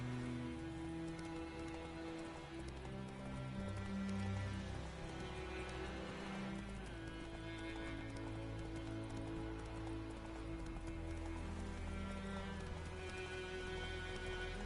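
Hooves of Roach, Geralt's horse in The Witcher 3, clip-clop steadily at a gallop, with an occasional whinny over a constant layer of game music.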